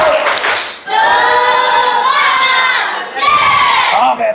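Classroom students perform a 'tepuk semangat' ice-breaker, a loud burst of rhythmic clapping followed by long, energetic group shouts and chants, close and full, with a short pause before a second shouted phrase.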